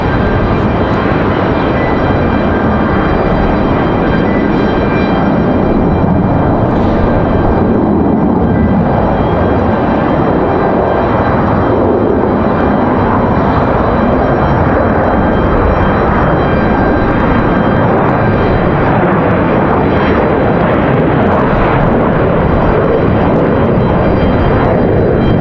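An Embraer E175 jet airliner landing at Raleigh-Durham International Airport on a windy day, a steady, loud engine roar that stays constant throughout with no talking.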